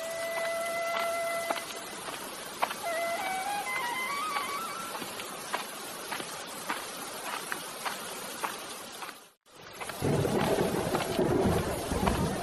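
Steady rain pours down with a broad hiss, a few tonal beeps early on, then a brief drop before the downpour returns heavier.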